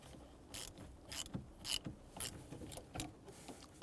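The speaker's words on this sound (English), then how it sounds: "Use a 10mm socket, loosen up the negative terminal." A ratchet with a 10mm socket loosens the negative terminal on a 2005-2010 Chevrolet Cobalt car battery, giving a series of close, sharp clicking strokes in an uneven rhythm.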